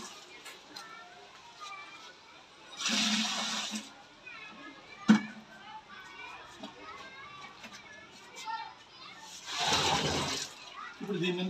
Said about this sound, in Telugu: ఇప్పుడు దీని ముందు నీళ్ళు వేస్తామండి